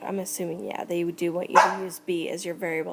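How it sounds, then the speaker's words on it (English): A dog barks a few times in the background while a person speaks over it. "Sorry about my dog barking."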